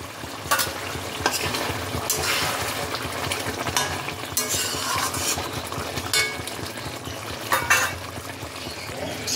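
Tilapia fish curry gravy being stirred in a pan, a continuous sizzle and bubbling with repeated scraping strokes of a spoon and occasional clinks, close and moderately loud, with no voices.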